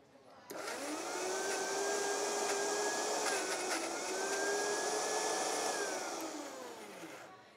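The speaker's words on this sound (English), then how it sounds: "that's all we want to do is just pulse it so it gets nice and chunky" A food processor pulses garlic cloves into chunky pieces, its motor whirring loudly and steadily for several seconds, with a slight dip in pitch partway through before it winds down.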